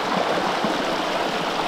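A mountain stream flows steadily at close range, a dense, continuous rush and gurgle of water with no pauses and no voices.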